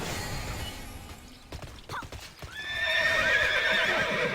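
Hooves clip-clop from a mount in Tera Online, with a short whinny around the middle before a bright, sustained neigh and game chimes take over the second half, all fairly loud with no talk over it.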